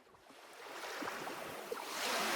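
Waves wash onto a shore in a continuous soft surging rush that builds slightly toward the end, faint and without voices.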